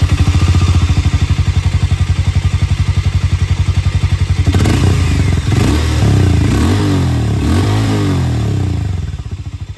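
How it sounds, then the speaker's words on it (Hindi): Harley-Davidson X440 motorcycle exhaust, a steady close thumping idle that gives way to loud revving and throttle blips in the second half, with no talk. "ये था यहाँ पर हार्ले डेविडसन X440 की आवाज़।"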